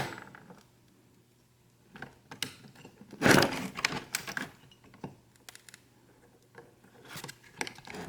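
Cutting during a backup camera install in a 2010–2011 Saab 9-5, heard as a close, crisp burst of snipping in the middle with scattered clicks and handling noises around it, fairly quiet otherwise.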